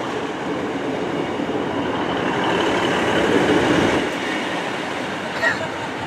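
A Great Western Railway passenger train, Class 150 diesel units, rumbles steadily close by as it pulls away from Penzance station, a loud continuous roar of wheels and engine with faint voices in the background.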